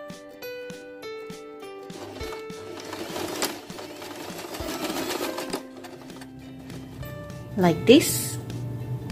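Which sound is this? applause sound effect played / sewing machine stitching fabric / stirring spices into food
sewing machine stitching fabric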